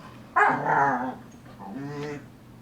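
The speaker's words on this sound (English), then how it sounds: "don't mind my puppy. He's having a good time playing over there behind me." A puppy barks twice, a sharp yappy bark followed by a softer, drawn-out whining bark, fairly close in a quiet room.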